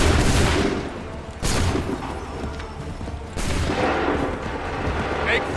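Volleys of musket gunfire from a firing line on command in Assassin's Creed 3 Remastered, three loud broadband blasts roughly two seconds apart, each trailing into a rumbling echoing tail.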